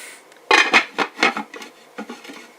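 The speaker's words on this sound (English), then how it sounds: "Get the lid back on." A metal lid set back onto a pot of rabbit stew gravy, giving a few sharp clanks and scrapes with a rattling settle, close and clear, followed by lighter taps.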